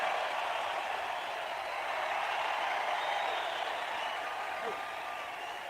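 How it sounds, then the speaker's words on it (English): Rally crowd applauding steadily and loudly throughout, a dense wash of clapping with no break, heard close and alone. "I don't think I've ever introduced anybody that got applause like that"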